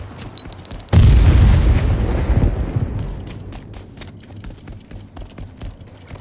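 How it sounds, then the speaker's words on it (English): Heavy airstrike explosions in a World War 3 combat video game: a sudden loud boom hits after a brief high electronic beep, then a long rumbling roar that slowly fades, with scattered crackles and distant pops continuing. "Friendly airstrike incoming."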